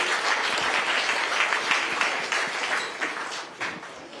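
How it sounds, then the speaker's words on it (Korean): Audience at a parliamentary policy seminar claps in a steady, dense round of applause, heard from within the room and tapering slightly toward the end. "여러분 큰 박수로 맞이해 주십시오"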